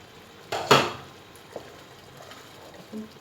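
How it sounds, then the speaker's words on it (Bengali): A metal lid lifted off a pan of simmering paneer butter masala gravy, giving one sharp clattering clank followed by a faint tap, close and alone over quiet kitchen background. "এবার ঢাকাটা তুলে দিচ্ছি"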